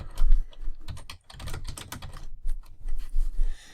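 Rapid clicking of keys on a computer keyboard as math functions are typed in, a close, busy run of uneven taps with a brief pause partway through.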